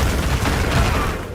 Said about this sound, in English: One of its attacks even resembles a dangerous fireworks display.